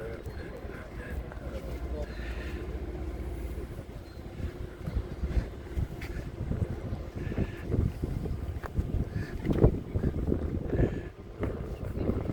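Boat ride along the Aura river in Finland, with wind buffeting the microphone over a low engine rumble and water noise, and a person talking throughout.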